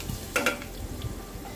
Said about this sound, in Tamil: இதை வந்து நல்லா வாசனை வர வரைக்கும் பூண்டை வதக்கிக்கலாம்.